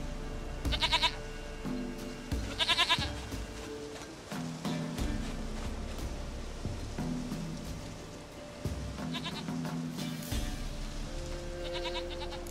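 Goats bleat in The Witcher 3 game, several wavering calls at intervals over a steady rain-like ambient bed, moderately close, with no talking.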